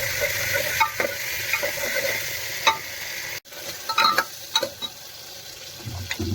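Chopped chilies and tomatoes hit a hot pan with cumin and are stirred, making a close sizzle with sharp spoon scrapes and clacks. The sound briefly cuts out midway.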